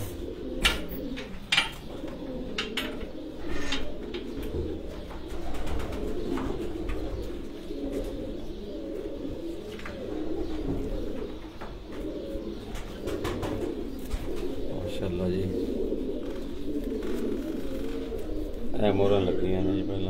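Pigeons coo continuously at a pigeon sports tournament in Gujrat, a steady low warbling chorus running throughout, with scattered clicks and taps and a brief rise of louder calls near the end.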